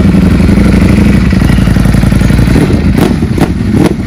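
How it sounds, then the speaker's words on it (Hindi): A Honda Gold Wing touring motorcycle engine runs steadily at close range, a low continuous rumble with a few brief throttle blips near the end. "देखो ये भी गोल्ड विंग स्टार्ट हो गई है"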